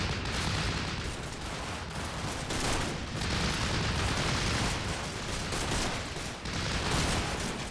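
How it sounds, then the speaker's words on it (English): Gunfire from the World War II strategy game Combat Mission: Battle for Normandy, a dense, continuous rattle of distant rifle and machine-gun volleys with rumbling booms, steady and loud with no talk. "we're taking fire from the left flank too"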